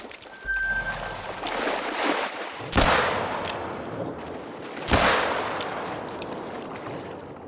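Two sharp pistol shots ring out in theHunter: Call of the Wild, spaced about two seconds apart, each a loud crack with a short echoing tail over quiet outdoor ambience.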